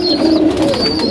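Racing pigeons cooing in a loft while being paired for breeding, a close, continuous throaty warble with no talking.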